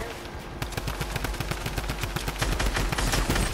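Rapid automatic gunfire in the Fortnite video game, a dense, fast stream of sharp shots, loud and close, running continuously for several seconds.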